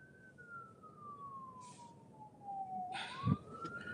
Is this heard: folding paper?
no